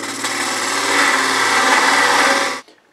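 Wood turning on a lathe with a spindle gouge while shaping a pepper mill, a loud, steady, close-up cutting whir that stops abruptly near the end, with no talking.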